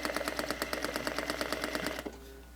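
A sewing machine stitches a shoulder dart in a steady, fast rhythmic chatter of needle strokes at close range, running for about two seconds before stopping abruptly.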